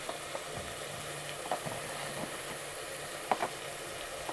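Spices and red chili powder frying in a pan give a continuous soft sizzle, with a few brief clinks of a spoon, close and fairly quiet, with no speech.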